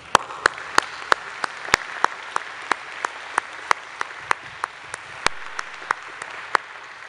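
Sparse, sharp hand claps ring out across a large hall as a church conference audience applauds bus trip participants, with individual claps standing out over a soft room murmur.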